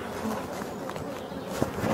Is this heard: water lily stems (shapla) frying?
no